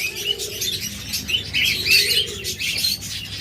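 A flock of budgerigars chirps and warbles steadily, a dense chatter of bright tweets from several birds close by, with no talking.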